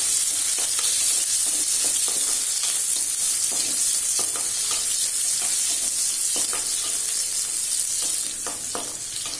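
Fifteen small shallots fry in hot oil in a kadai for sambar, a dense, steady sizzle close by with faint scrapes of stirring and no voices.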